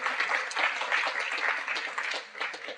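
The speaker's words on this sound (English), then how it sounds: "Oh, you can applaud." Dense, continuous applause from a seminar audience fills the room, many hands clapping together at a steady level for a few seconds, with no voices over it.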